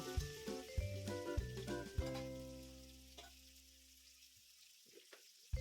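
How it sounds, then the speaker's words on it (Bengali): Potatoes frying in oil with salt and turmeric, stirred with a spatula: several clattering knocks against the pan over a gentle sizzle that fades, then a last scrape, close up. "এইভাবে নাড়িয়ে চাড়িয়ে নিয়ে আমি আলুগুলো একটু লাল লাল করে ভেজে উঠিয়ে নেব"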